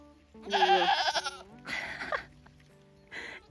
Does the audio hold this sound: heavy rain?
no